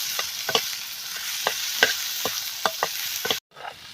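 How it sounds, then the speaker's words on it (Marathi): Onion sautés in a hot pan, a constant bright sizzle with a spatula clacking and scraping through it in irregular strokes. It stays close and fairly loud, then cuts off abruptly near the end. "कांदा आपला चांगला गुलाबी रंग येईपर्यंत आपला परतला आहे"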